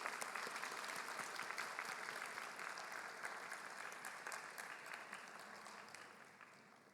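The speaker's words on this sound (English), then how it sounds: "turn towards your parents, and give them a good round of applause" Sustained audience applause fills a university convocation hall, a dense steady clapping that gradually tapers off toward the end, with no voices over it.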